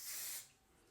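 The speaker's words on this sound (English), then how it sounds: "The sides I spray straight on." A short, close hiss of wig adhesive sprayed straight onto the sides of a lace front wig, one burst under half a second that cuts off into quiet room tone.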